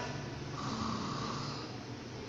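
A person imitating snoring, a low rasping drone drawn out over a couple of seconds, quiet and close, with no other voices.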